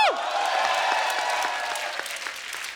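A studio audience applauds Hema Malini's entrance with a dense, steady burst of clapping from many hands, heard alongside a brief musical flourish at the start.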